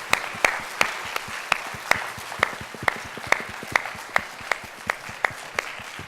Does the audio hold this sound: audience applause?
yes